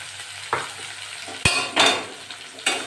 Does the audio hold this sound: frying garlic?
yes